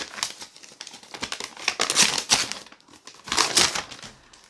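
Floral wrapping paper crinkles and tears in bursts as books are unwrapped, sharp close crackles that come in uneven waves with brief pauses between them.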